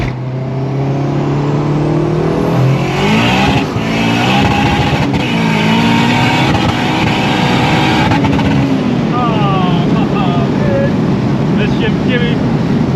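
A turbocharged stock K24 engine on an eBay turbo kit revs hard on a dyno, rising and falling harmonic engine tones sweeping upward repeatedly, loud and continuous, with voices talking over it.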